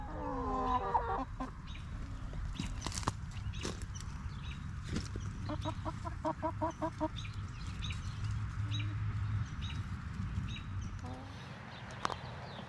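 Chickens cluck and chatter steadily around a homemade 5-gallon bucket watering system, with a burst of quick, rhythmic rooster-like calls midway over a constant low outdoor hum.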